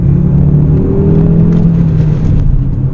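Steady, loud engine drone with low rumbling exhaust from a 2019 Audi RS3 or TT RS, heard up close from inside or beside the moving car, without pause.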